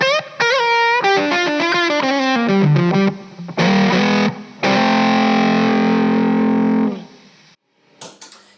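Electric guitar played through a Jext Telez Buzz Tone fuzz pedal set to nine volt mode, a loud, thick buzzing fuzz tone running through a quick descending riff, then chords that ring out and sustain, with brief pauses and a faint scratch at the end.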